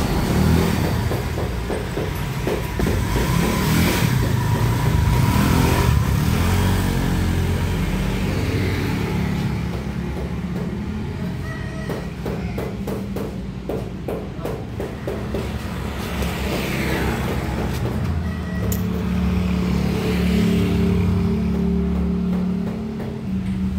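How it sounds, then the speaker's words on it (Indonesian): An older Honda Vario 125 scooter runs steadily on a test ride after repeated workshop repairs, its engine hum loud and continuous with light mechanical ticking and road noise throughout. "Dan suara mesin ini halus ya, bisa diperhatikan."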